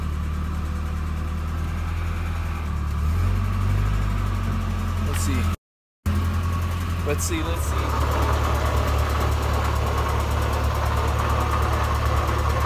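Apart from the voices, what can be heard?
car engine starting and idling after differential install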